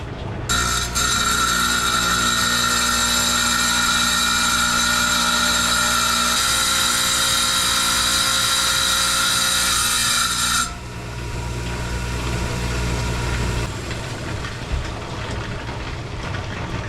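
A power saw cuts into a rock from a rock pile while the piece is trimmed and squared for polishing, a loud steady rasping whine running for about ten seconds before stopping, leaving a lower machine hum and scraping behind.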